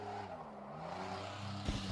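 A 1997 Pontiac Grand Prix stock car runs a qualifying lap at La Crosse Speedway, its engine droning steadily and loud with a brief sharp burst of noise near the end.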